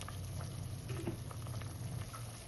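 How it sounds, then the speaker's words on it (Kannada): Water rolls at a boil in a pot for jackfruit mushroom biryani, a steady close bubbling hiss with small pops, continuous and unaccompanied by talk. "ಈಗ ನೀರು ಕುದಿ ಬಂದಿದೆ."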